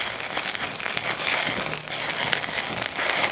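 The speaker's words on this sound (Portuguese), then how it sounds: "dar uma flambada aqui" Strogonoff flambéed with alcohol in a pan gives a steady crackling, sizzling roar of burning fumes, continuous and moderately loud, with no talk.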